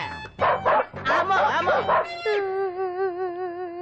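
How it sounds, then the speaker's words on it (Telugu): Dogs bark in a quick cluster of sharp, loud barks and yips, then one draws out into a long, wavering howl that carries on alone to the end. "అటు చూడు కుక్కలు"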